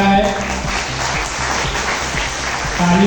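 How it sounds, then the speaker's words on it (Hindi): Audience applause at a police farewell ceremony in police lines, a steady burst of clapping from a crowd lasting throughout, with a voice speaking over it. "तालियों में कमी नहीं आनी चाहिए भाई।"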